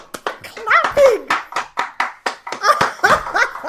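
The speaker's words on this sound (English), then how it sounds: "Oh, clapping!" A small group claps in quick, uneven bursts at a casual home music session, close and lively, with voices and a bit of laughter mixed in.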